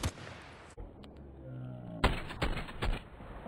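Gunfire in a first-person video game: a burst of loud cracks near the start, then a quieter hum and a cluster of sharp shots toward the end, all over steady game background noise.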